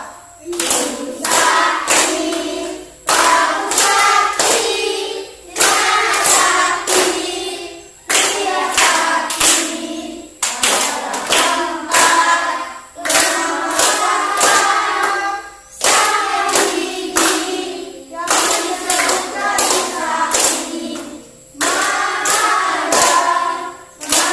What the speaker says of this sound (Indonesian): Kita nyanyi sama-sama sambil tepuk tangan, boleh?